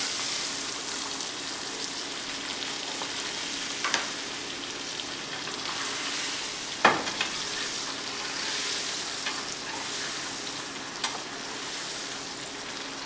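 Elk meat fries in a pan while being basted with butter, a steady close sizzle with occasional spoon scrapes and clinks against the pan, no talking.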